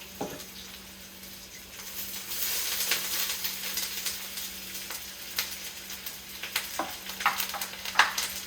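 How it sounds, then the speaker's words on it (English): Onions and peppers sizzle steadily in a hot pan, a close crackling fry with stirring scrapes and a faint background hum, no talking. "Time for me to do my fry up onions. I'll do half of the peppers."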